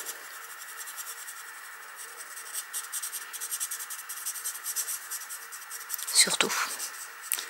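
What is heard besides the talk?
Nuvo alcohol marker rubbing and blending colour on paper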